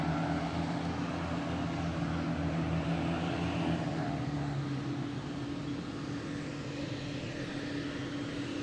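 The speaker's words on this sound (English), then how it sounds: "we have United Airlines coming in from San Francisco" A United Airlines airliner arriving from San Francisco comes in to land on runway 27 at Boston Logan, a continuous engine roar of moderate loudness that eases off slightly toward the end.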